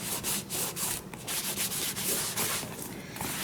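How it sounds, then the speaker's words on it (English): A candle rubbed over paper ephemera, then buffed with a cloth, giving close, loud, rapid back-and-forth scrubbing strokes in a steady rhythm with no talking. "So, I rub the candle, and then I buff it with a cloth."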